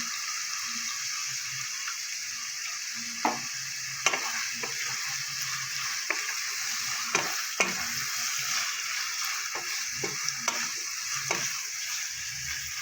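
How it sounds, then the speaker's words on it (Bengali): Egg sizzles steadily in a hot pan for street-style egg chowmein, with a constant frying hiss. Scattered clicks and scrapes of a spatula stirring punctuate the hiss throughout. "এবার আমি দিয়ে দেবো একবারে ডিমটা, আমি একেবারেই দিয়ে দিলাম।"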